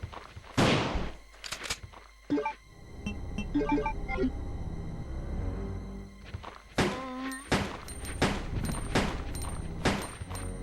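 A shotgun fires at groups of enemies in Resident Evil 2, several sharp blasts spread across the scene with mechanical clacks and a scattering of game effects between them.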